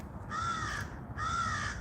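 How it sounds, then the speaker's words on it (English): Crows caw twice, two drawn-out, clear calls in steady succession, moderately near against a quiet background. "A salty murder of crows."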